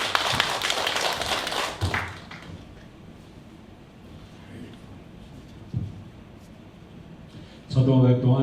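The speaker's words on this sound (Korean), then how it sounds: "박수로 맞아주세요" A short burst of audience clapping at the Incheon Namdong Cultural Center's 20th-anniversary ceremony, fairly loud at first, then dying away into quiet room tone with scattered taps and a voice near the end.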